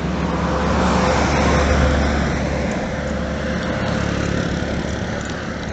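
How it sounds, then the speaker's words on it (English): A bus passes a cyclist on a road in the mountains of Burundi near Bujumbura. A loud, steady engine rumble and road noise hold throughout, with no voices. "Oh, it's a bus actually."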